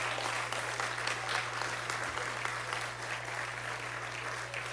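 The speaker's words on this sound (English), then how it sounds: "Let's give Jim a round of applause" Sustained applause from a large arena crowd at Madison Square Garden during a concert celebration, dense steady clapping filling the space with a constant low hum underneath.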